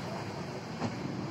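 A train running on a long-distance rail journey across India, from Amritsar to New Jalpaiguri, gives a steady low rumble of carriage noise with no distinct clacks, heard from inside the coach.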